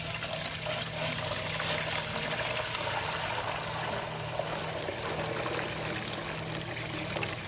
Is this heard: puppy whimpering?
no